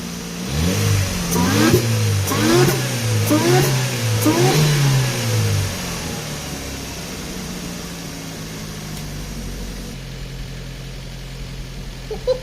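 A Nissan March Super Turbo engine revs in several rising and falling bursts, loud and close, then settles into a steady low idle for the rest of the time.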